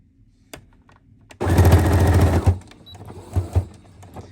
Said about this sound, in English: we're going to stitch across, but we have to be mindful to not go all the way to the edge